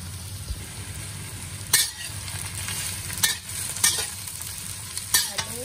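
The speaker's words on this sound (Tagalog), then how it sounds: "Antayin lang po natin na medyo mag-brown ang ating luya" Ginger browning in a pan before pork leg goes in, with a soft steady sizzle broken by several distinct scraping strokes of a spatula at irregular intervals, no talking.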